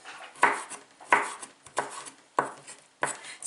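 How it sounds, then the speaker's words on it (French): A somewhat dull knife cuts through a lemon on a board, giving five distinct, evenly spaced chopping thuds close up, each with a short scraping tail, and no voices. "Ah, cette couteau, il coupe pas trop bien."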